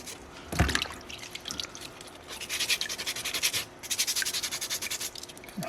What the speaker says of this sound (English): I'm like an otter when I'm carving, always rinsing stuff off.